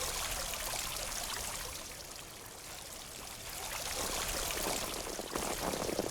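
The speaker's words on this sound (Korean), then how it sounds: "물소리 들어봐" Water trickles and burbles steadily in Mabinogi Mobile, a soft continuous stream with a slight swell toward the end, no voices.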